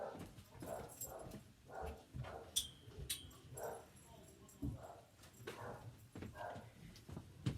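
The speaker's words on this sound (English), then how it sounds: "you can hear Baxter down there barking to go outside" A dog named Baxter barks and whimpers from somewhere below, short yips and bow-wows repeated in uneven bursts, moderately distant and fairly quiet indoors.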